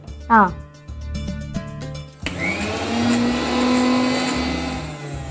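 A mixer grinder whirs into a loud, steady grinding run, blending a paste for a ripe chilli, mango and ginger pickle, after a few seconds of kitchen clatter and a brief voice.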